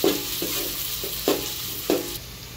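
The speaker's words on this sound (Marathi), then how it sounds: "कांदा व्यवस्थित परतून घ्यायचा आहे तेलामध्ये" Finely chopped onion sautéing in oil with bay leaf in a pan, a steady close sizzle broken by a few sharp stirring scrapes, no voices.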